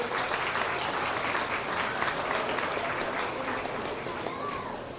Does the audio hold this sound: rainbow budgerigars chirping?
no